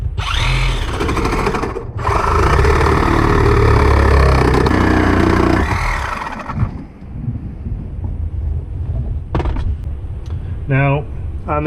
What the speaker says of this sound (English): You just have to drill them out.